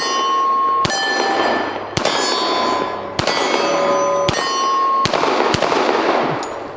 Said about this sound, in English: just feel like shooting weak-handed a little bit